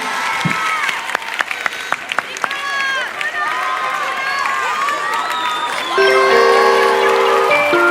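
A studio audience applauds and cheers the band Jamiroquai on a French TV talent show, a loud, dense crowd roar with shouts and whistles throughout, music swelling in near the end.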